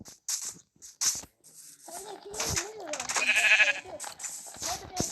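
A sheep bleats a few times amid chatter and other sounds, wavering calls that rise and fall, fairly close and clear.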